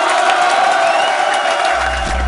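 A crowd at a rap battle contest cheers and whoops for a young rapper, a loud, continuous roar of voices with shouting and scattered clapping, and a low rumble entering near the end.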